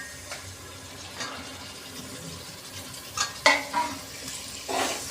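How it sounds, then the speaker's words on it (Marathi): Mutton going into a pot of Bhandari-style rassa curry over low flame, with soft wet stirring, a few clinks of a spoon against the pot, and light splashes. "आता आपण याच्यावरती मटण घालून घेऊ"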